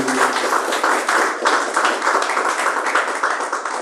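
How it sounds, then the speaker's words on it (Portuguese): A church congregation claps loudly and steadily for Jesus during a worship service, a dense continuous roll of hand claps with no talk over it. "Palmas para Jesus, bem forte para Ele"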